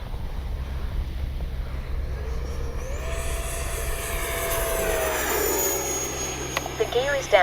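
An E-flite 70mm Viper RC jet making a pass, its ducted-fan whine rising and sweeping past at a distance over steady wind noise on the microphone, ending with a few sharp bumps close by.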